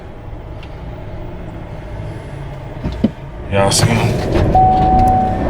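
Cabin ride in a 2019 GMC Sierra AT4 pickup truck, steady engine and road rumble with a louder surge of motion noise midway, a voice talking over it.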